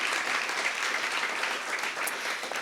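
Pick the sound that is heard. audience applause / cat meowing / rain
audience applause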